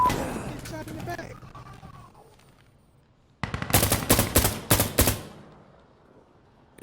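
Rapid automatic gunfire from a realistic console shooter, Insurgency Sandstorm, bursts of close, loud shots packed together in the second half after a quieter stretch, with a player talking early on.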